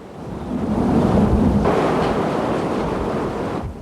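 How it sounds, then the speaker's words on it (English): High winds and storm-surge waves batter a Gulf Shores, Alabama beach in a steady, loud roar of surf and gusting wind buffeting the microphone. No voices are heard. "In Gulf Shores, Alabama, high winds helped push the storm surge into the hotel district."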